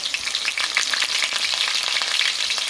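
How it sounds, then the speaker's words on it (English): Steady, loud sizzling and crackling of seasonings frying in hot oil for ackee and saltfish, continuous throughout with no voices. "make sure your oil is hot, so when you drop the seasonings in there, you hear that sound"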